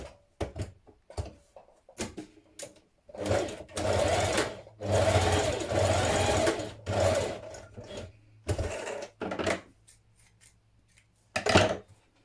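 A sewing machine stitches the centre back seam of a neck binding for a New Look 6891 summer blouse, running in several bursts of varying length with short pauses between them, close and alone.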